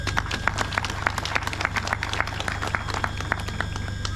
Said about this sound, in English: So I would like everybody to clap for Lydia.